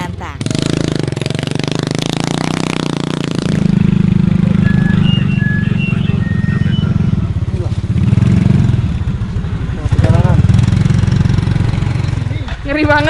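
Motorcycles labor along a rough, challenging off-road trail in Java, their engines buzzing and straining loudly and continuously with rattling surges, while people talk over the noise.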